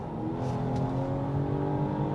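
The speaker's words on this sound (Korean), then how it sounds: "이 엔진 사운드가 참 좋습니다. 저런 뽕 소리도 내주고요" A Volvo V60 Cross Country B5 AWD with a 250-horsepower turbocharged engine and eight-speed automatic accelerates, a steady, strong engine drone rising smoothly and heard close from inside the car, with no talking.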